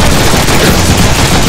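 Rapid gunfire in the Deadpool video game, with the pistol in use, fills the whole moment as a dense, loud, continuous burst of shots with no gaps.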